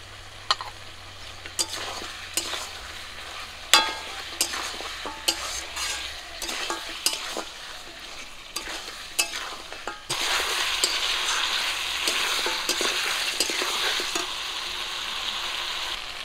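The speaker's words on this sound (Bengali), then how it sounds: "লঙ্কা গুঁড়ো দেওয়ার পর আদা রসুন বাটাটা দিয়ে দেবো।" Ginger-garlic paste and chili powder frying and being stirred in a pan for Bengali mutton kosha in a village kitchen, steady sizzle with scattered spoon scrapes and clinks, turning to a louder, denser hiss in the second half.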